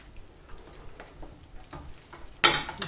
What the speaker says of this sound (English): stir the noodles into the vegetables